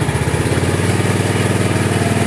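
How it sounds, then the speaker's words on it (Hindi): A motorcycle engine runs in first gear with the clutch held and the brake pressed, lightly revved into a steady, close, loud throbbing drone with a rapid pulsing beat and no voices. "हमने पहला गियर लगाया है और क्लच को दबा के हल्की सी रेस रखेंगे तो फिर आवाज़ जो है वो आएगी"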